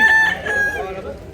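Roosters crowing at a chicken market in Consolacion, North Cebu, a brief strained crow over a busy background with faint voices nearby.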